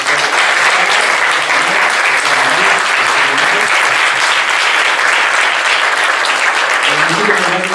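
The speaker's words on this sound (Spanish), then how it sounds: "yo creo que les merecen un aplauso." Loud, continuous applause from an audience thanking panelists at a round-table discussion, dense and even throughout, with faint voices murmuring underneath.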